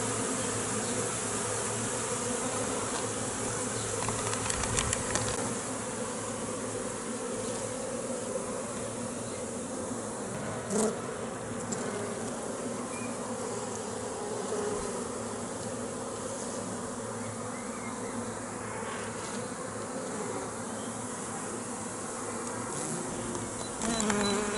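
Honey bees around a hive during a spring inspection, a dense steady buzzing swarm close by that holds for the whole stretch, with occasional faint clicks and knocks.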